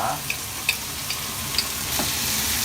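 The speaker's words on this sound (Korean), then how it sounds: "준비된 양념을 넣고 같이 볶겠습니다" Meat and vegetables stir-fried together with prepared seasoning sauce in a pan, a soft continuous sizzle with a few light clicks of the utensil as the food is tossed, heard alone and close.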